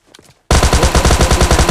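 Rapid SMG bursts in PUBG Lite erupt after a brief quiet lead-in, a loud, close, steady stream of shots in a fast even rhythm with no talk.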